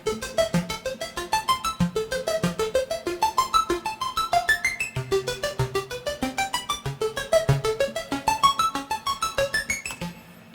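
Arturia Mini V synth playing the ARP 4 preset with chorus and Valhalla Room reverb, a rapid bright arpeggio of evenly pulsing plucked notes climbing and falling in repeating patterns over a low bass line.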